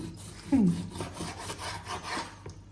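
A knife saws back and forth through roasted deer meat seasoned with butter, pepper and salt, a short rough rubbing scrape up close over a low background murmur.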